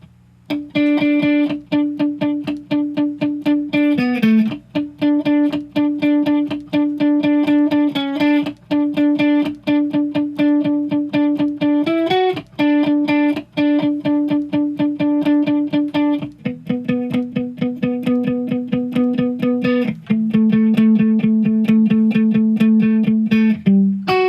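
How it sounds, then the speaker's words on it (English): A slow electric guitar melody of evenly picked single notes, steady and rhythmic, each repeated in a quick even pulse; loud and unaccompanied. "There is a nice alternate picked melody in the verse of this song"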